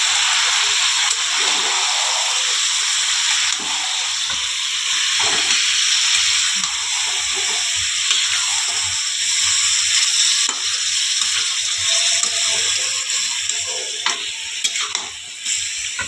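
Washed chicken fries in hot oil with a loud, steady sizzle and hiss that goes on throughout, with faint stirring scrapes and small spatters close by, and no speech.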